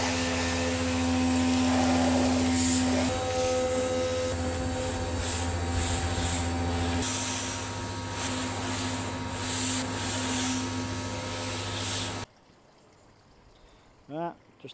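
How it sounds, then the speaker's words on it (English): A pressure washer cleans mucky solar panels set over koi ponds outdoors, a steady loud broadband hiss of spraying water with a motor hum that drops partway, then cuts out near the end, leaving quiet. "let's get this jet wash down"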